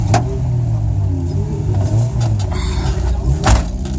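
A wrecked race car rolls along on a tow at a wreck race event, its drivetrain droning low and steady with rattles and a few sharp knocks and clunks from the battered body.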